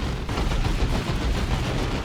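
Loud, dense gunfire and explosive blasts from the real-time strategy game Dawn of War 2: Retribution rumble continuously in a battle, with rapid overlapping shots and no voices.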